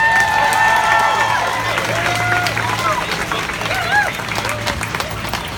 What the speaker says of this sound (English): everyone give her a big round of applause,